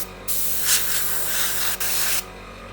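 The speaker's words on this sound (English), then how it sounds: "If I wanted it a darker colour, I would spray a lot heavier, but I'm just kissing all the edges all the way around" Spray paint or colour from a can hisses in short bursts onto the edges of a floral cake decoration, several close, steady sprays with brief pauses between them.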